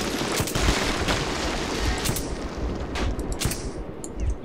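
A machine gun nest fires in Metro 2033, dense overlapping gunfire that rattles steadily and loudly throughout, with sharp cracks punching above the continuous din and no voices.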